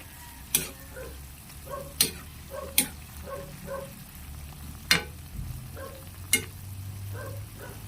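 Squash and water spinach get stirred in a pan with salt, soft sizzling underneath and a handful of sharp utensil clacks against the pan at irregular intervals, fairly quiet overall.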